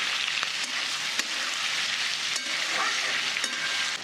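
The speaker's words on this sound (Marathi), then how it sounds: "अगदी 2 मिनिटं कांदा परतून घ्यायचा आहे" Onion with garlic and salt fries in a pan for a dhaba-style paneer masala gravy, making a constant close sizzle with occasional sharp ticks and stirring clicks. No voices are heard.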